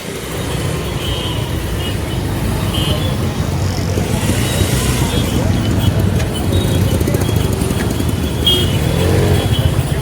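A car pulls in through the gate into the grounds of Titwala temple, its engine running steadily and close by throughout, with people talking over it.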